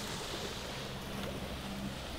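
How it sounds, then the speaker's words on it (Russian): Small, gentle waves lap and splash in a calm bay on a Balaklava waterfront in November, a soft continuous wash with light wind and no talking. "Такие небольшие волночки, вот они плещутся."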